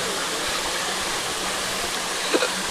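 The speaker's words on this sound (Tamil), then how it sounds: "இங்கே பாருங்கள், குட்டி நீர்வீழ்ச்சி. தண்ணி அப்படியே போய் அங்கே கீழே வருது." Small hidden waterfall in Andhra Pradesh, water flowing and splashing in a steady broadband rush, close and constant, with a brief faint blip near the end.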